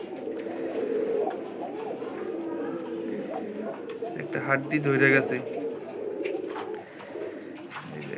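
Pigeons coo steadily on a foreign-breed pigeon farm, a soft continuous flock murmur with a louder burst of calls midway, while a person talks over it throughout.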